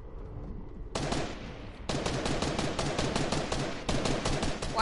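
Gunshots crack out in Fortnite near Loot Lake: a single shot, then rapid automatic volleys arriving in loud, close bursts with brief gaps between them.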